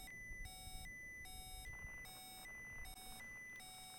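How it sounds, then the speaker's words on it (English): Master warning alarm aboard an Apollo-style spacecraft in the VR game Reentry, a loud repeating electronic beep pulsing in steady on-off bursts about twice a second over a low cabin hum, with no voices. "should get a master warning"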